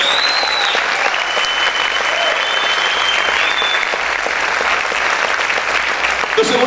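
Dense, continuous applause from a church congregation, a loud and unbroken wash of many hands clapping, with a thin whistle-like tone drifting faintly through it.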